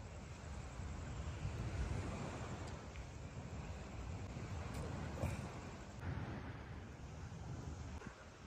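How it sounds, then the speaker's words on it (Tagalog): Night sea waves wash onto the beach at Acuatico Beach Resort in Laiya, Batangas, as a continuous broad rushing surf mixed with wind buffeting the microphone, with no voices. "Dito kami ngayon sa tabing dagat."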